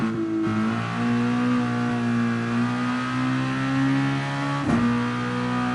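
A race car engine in the Gran Turismo Sport video game holds a steady, droning rev, then gives a brief sharp blip near the end before settling back to the same even tone.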